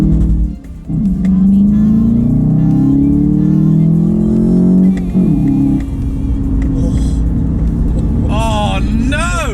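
Loud engine roar from a car launching off the line in a drag race, MK7 GTI against a Soarer with a 1JZ, rising in pitch as it pulls away, with voices talking over it.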